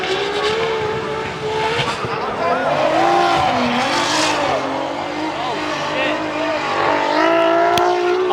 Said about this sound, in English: it just caught and couldn't grip up and just kept sliding once he hit the gravel